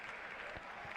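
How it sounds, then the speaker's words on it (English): Audience applause at a Rubik's cube 5x5 final at Cubing USA Nationals 2023, a steady, dense wash of clapping from a crowd, heard fairly faintly and at a distance. "Well-deserved applause for Michael Nielsen right there."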